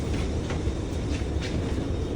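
A metro train in Singapore rumbles steadily along the rails, a low continuous roar with faint rhythmic clicks, heard from inside the carriage.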